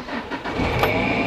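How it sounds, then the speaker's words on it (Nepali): A car engine catches and settles into a steady idle on a hill-start lesson, a brief starter whir giving way to a continuous close hum. "गाडी स्टार्ट भएको छ"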